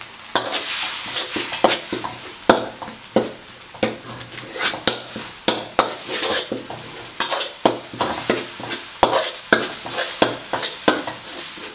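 Curry paste for a catfish curry is stir-fried in a pan with a constant sizzle, punctuated by frequent sharp spatula scrapes and taps in an uneven rhythm.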